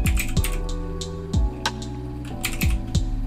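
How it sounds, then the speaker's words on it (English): Computer keyboard keys clack in a quick irregular run of close, crisp taps as a command is typed on a Windows 10 PC, with no voices. "Now another thing you can do is type out this command here."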